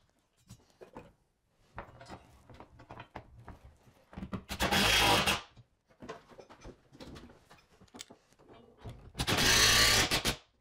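A power drill drives bolts with a socket into a painted barn door track rail, two loud whirring bursts of about a second each standing out over scattered clicks and handling of metal and wood.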